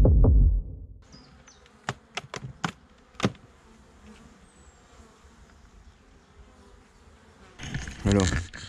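Honeybees at a hive in spring, a steady buzzing drone interrupted by sharp clicks and knocks, ending with louder rustling handling noise near the microphone.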